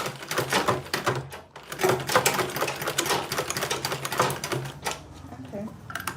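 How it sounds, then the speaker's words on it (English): A sewing machine stitches an Ankara fabric tote bag, its rapid mechanical clatter running in short bursts beneath someone talking close by. "Okay, so I just make sure I sew the angle again."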